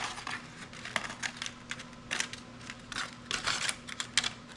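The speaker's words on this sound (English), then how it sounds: "we're going to take them out of this foil" Crinkly aluminium foil being peeled and unwrapped from soft roasted garlic cloves in a kitchen, a run of close, irregular crackling and rustling bursts with brief pauses and no talking.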